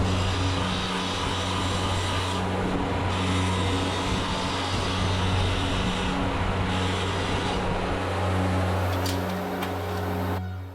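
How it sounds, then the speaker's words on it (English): A wire wheel mounted on a bench grinder whirs steadily and loudly while cleaning rusty bolt threads, a continuous hum with slight changes where the bolt is pressed against the wheel. "I clean bolt threads using a wire wheel mounted on a bench grinder."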